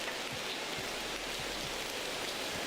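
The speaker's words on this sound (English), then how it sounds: "She must be getting drenched in the rain." Steady rain falls in the video game Shenmue III, a dense, even hiss of drops on surfaces that holds constant without pauses or voices.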